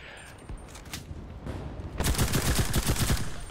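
Gunfire in the WW2 video game Enlisted. Scattered shots sound at first, then a dense, rapid automatic burst takes over, loud and close, for the final second and a half.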